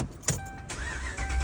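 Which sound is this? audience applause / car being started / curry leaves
car being started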